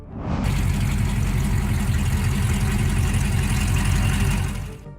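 A 1969 Dodge Charger Daytona classic Mopar muscle car engine running, a loud, steady, throbbing rumble at close range that starts abruptly and holds an even pulse before cutting off.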